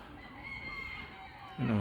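A rooster crows in a public park, one drawn-out call building near the end over steady background ambience.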